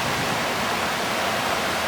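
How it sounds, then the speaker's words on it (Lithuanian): A spring mountain stream fed by melting snow runs over small waterfalls, giving a steady, close, full-bodied rushing roar that holds evenly throughout with no voices. "pavasarinis kalnų upelis su kriokliukais."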